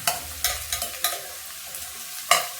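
Ginger garlic paste fries in a pan over medium heat, a soft continuous sizzle broken by repeated scraping stirs of a spoon, close and moderately quiet.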